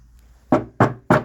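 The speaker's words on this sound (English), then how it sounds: "Knock on wood." Three sharp knocks on wood, close and evenly spaced about a third of a second apart, each a crisp hollow rap with no talk around them.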